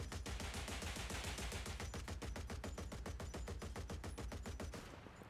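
Twin DShK heavy machine guns mounted on a boat in War Thunder's naval combat fire a rapid, steady stream of loud, booming shots, evenly spaced with no pauses. The burst tapers off at the very end.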